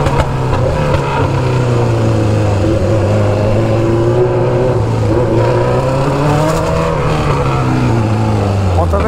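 A green BMW S1000RR motorcycle engine revs loudly and close by, its pitch rising and falling through repeated throttle blips over a rough idle, with people talking underneath.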